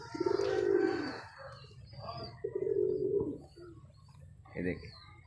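A pet pigeon coos in low, soft, repeated phrases close by, three or four rounded calls across the clip, with someone talking over parts of it.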